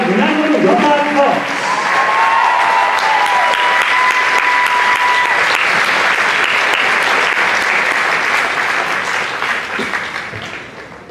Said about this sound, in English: Would you give them a huge round of applause?